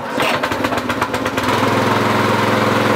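Small engine on a homemade tractor sputters briefly, then catches and settles into a loud, steady close-up running chug.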